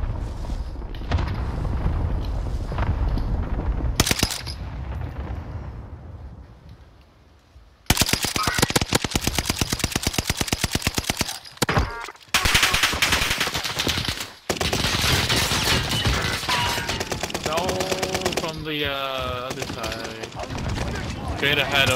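Gunfire in the Warzone battle royale video game, long loud stretches of rapid automatic fire separated by brief pauses, with game effects and players talking over it.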